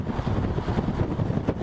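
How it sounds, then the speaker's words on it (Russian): Strong storm wind from a severe European hurricane roars and buffets against aircraft, a dense, unbroken rumbling gust noise close to the microphone. "Ветер сносит самолеты, словно это не многотонные гиганты, а осенние листья."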